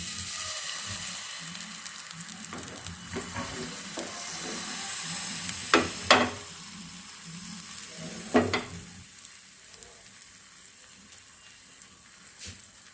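Steady sizzle of jaggery patishapta pitha batter frying in a pan, with a few sharp scraping clicks partway through; no talking.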